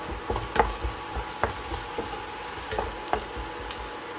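Crushed chilli flakes sizzle in oil in a pan with wilted ingredients for ridge gourd thoran, a steady frying hiss broken by several spoon scrapes and light taps at irregular intervals, close by, with no speech.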